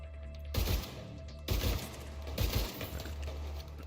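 Three heavy gunshots in The Division 2 fire at a slow, uneven pace, each a loud booming crack with a long rumbling tail, spaced roughly a second apart over a low game hum.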